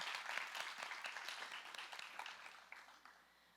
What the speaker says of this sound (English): give her a round of applause for being such a great sponsor and youth partner